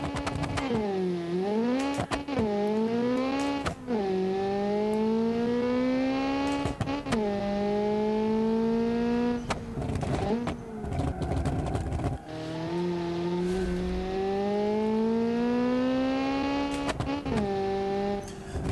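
An autocross race car with a 5-speed gearbox in BeamNG.drive revs up repeatedly, its engine pitch climbing and dropping at each gear change, close and loud for the whole stretch.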